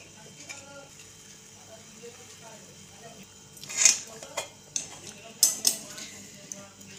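Lid pressed shut on a steel container filled to the brim with milk, a few sharp metallic clanks and clicks near the end after quiet kitchen background.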